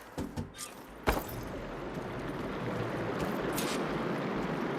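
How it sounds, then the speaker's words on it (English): Steady rushing water from the video game Horizon Forbidden West fills the space at moderate volume after a few sharp clicks and a thud at the start; no voices. "Aloy, I can hear water in the room again."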